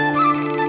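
A mobile phone's ringtone for an incoming call sounds loud and close in a short melodic tonal burst, outdoors in a rain-soaked field grown over like jungle.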